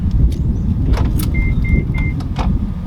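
A Shockflo 32 amp portable Level 2 EV charger is plugged into a car with a few sharp clicks, followed by three short, even electronic beeps over a loud rumble of wind or handling noise.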